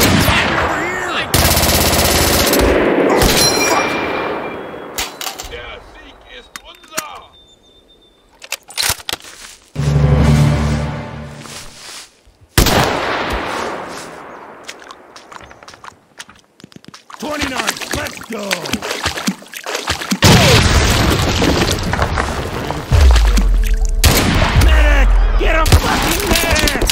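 Rapid machine-gun bursts and single gunshots in a video game set at the Rhine River, loud and close, overlapping with players shouting over the firing.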